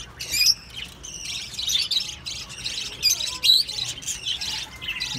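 Ringneck parrot chicks being pulled from their nest, squawking and chirping in harsh, repeated bursts at close range, with no talking over them.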